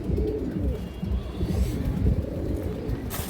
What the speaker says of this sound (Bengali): এটা একবার অরিজিনাল মনাজাক কবুতর দর্শক